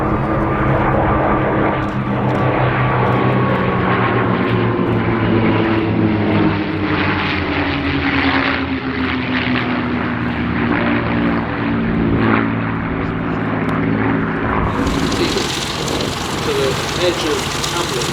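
A warbird propeller aircraft at an airshow flies over, its loud droning engine holding steady with a slowly shifting pitch before a sharp change near the end.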